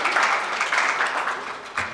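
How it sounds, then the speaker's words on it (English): Audience at a career expo clapping, a short burst of moderately loud applause from a crowd that carries evenly for about two seconds. "Let's give her a round of applause."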